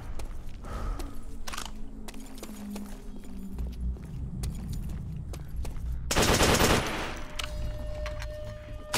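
Rapid automatic gunfire from a weapon in World at War, the Call of Duty shooter, crackling in dense bursts throughout with a loud sustained blast near the end, no talk.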